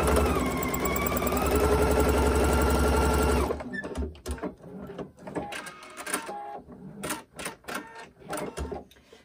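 A sewing machine stitches the seam of a fabric basket, running loud and steady for about three seconds before stopping, followed by scattered clicks and handling noises.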